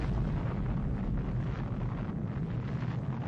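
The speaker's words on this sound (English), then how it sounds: "started an irreversible set of events leading to the nuclear explosion" A nuclear bomb explosion rumbles as a deep, sustained roar, a dense low broadband blast that holds steady without any clear onset.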